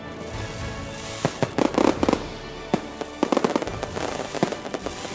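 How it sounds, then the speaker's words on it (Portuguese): New Year's fireworks over a stadium show at Arena da Floresta in Rio Branco, with repeated sharp bangs and crackling bursts coming in irregular clusters over a steady crowd-like background rumble. "Vários minutos de fogos de artifício brindaram a chegada do Ano Novo."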